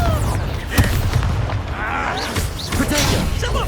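A Confringo fire spell exploding in Hogwarts Legacy, a few loud booming blasts with crackling bursts amid busy combat noise, while a voice speaks in the clip.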